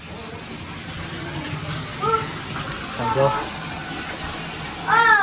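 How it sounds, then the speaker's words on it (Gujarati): Water gushes steadily from a tap into a tub, a constant rushing fill under brief bits of nearby talk. "પાણીનો ટબ ભરે છે આમ જોવાનું"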